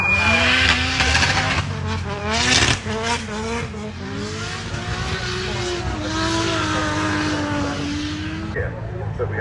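JDM race cars pull out of the pits at Castle Combe circuit, engines droning and revving up through gears in a continuous loud roar, with tyre noise and overlapping vehicles throughout.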